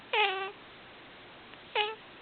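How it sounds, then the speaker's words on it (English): Two short, clear cat meows about one and a half seconds apart. Both are close, with quiet background in between. "A cat singing Old MacDonald."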